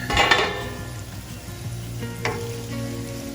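Onions with ginger and garlic frying in a pan for an egg masala, a steady close sizzle with a stirring clatter near the start and another scrape partway through.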